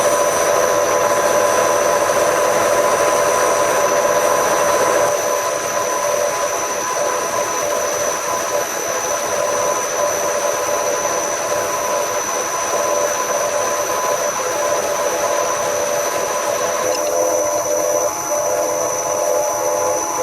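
Sandpaper rounds the shoulders of an Acme thread on a lathe, giving a steady, continuous hiss over a tonal machine hum for about twenty seconds, with no talking.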